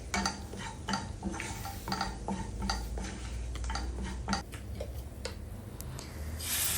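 Garam masala being stirred and sautéed on a low flame in a pan for paneer butter masala, with repeated light spoon clinks and scrapes against the metal over a faint sizzle, no talking.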